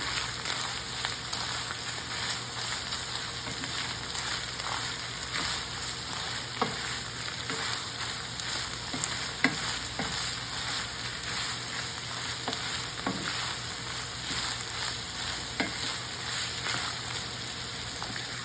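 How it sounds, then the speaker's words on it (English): Onions fry with ground beef in a pan, a dense steady sizzle under repeated stirring scrapes and soft spatula knocks, close and continuous. "We add the onions. And mix too."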